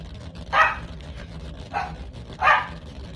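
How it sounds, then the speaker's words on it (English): A dog barks indoors, three sharp separate barks spaced about a second apart, moderately loud and close, over a low background hum. "My dog is going crazy."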